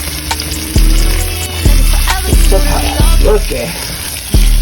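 Spicy Louisiana-style Cajun shrimp sizzling in a pan on a gas stove, a loud continuous fry with regular heavy thumps from the pan or utensil, and a voice speaking briefly over it.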